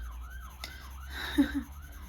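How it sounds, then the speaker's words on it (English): An ambulance siren passes slowly outside, a faint wavering wail rising and falling in the distance, with a brief soft knock partway through. "There's the emergency vehicle."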